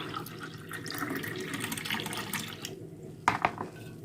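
Homemade licorice drink (erk sous) is poured, a continuous liquid gush and splash that thins out toward the end, followed by a few sharp clinks of a container.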